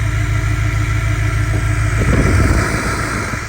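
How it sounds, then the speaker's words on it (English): A 2020 GMC 2500HD Duramax diesel pickup with the DEF system deleted idles close by. Its dense engine rumble swells partway through, with a turbo whistle laid over it. "you could already hear the turbo sound a lot more"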